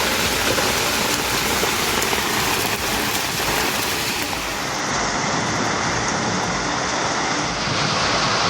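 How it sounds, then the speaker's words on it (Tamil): Heavy rain pours steadily in Palani, a dense continuous hiss of water falling on surfaces, moderately loud and unbroken, with no voices. "பழனியில் 3 மணி நேரத்திற்கு மேலாக பெய்த கனமழை."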